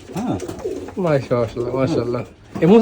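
Pigeons at a pigeon farm coo in repeated throaty rising-and-falling calls, several birds overlapping close by, with a brief human voice mixed in.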